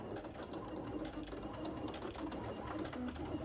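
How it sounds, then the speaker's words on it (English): An electronic cutting machine cuts circles out of material with a steady, continuous mechanical whirring and soft rhythmic clatter throughout, close by and moderately quiet, with no talking. "Can you see my machine is cutting?"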